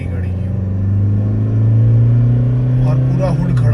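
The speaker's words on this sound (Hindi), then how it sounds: "पावर मोड लगाया। अब वो गाड़ी का थ्रो देखना, सीधे उठ के भागी गाड़ी की" A Toyota Fortuner 4x4 automatic in power mode accelerating hard, its engine rumbling loud and rising steadily from inside the cabin while someone talks over it.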